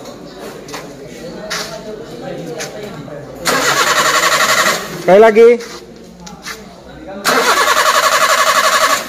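A car engine cranks and catches on a vehicle showing fault code P0183 with the MIL lamp unlit, two loud broadband bursts of starting and running separated by a brief quieter stretch, with people talking nearby.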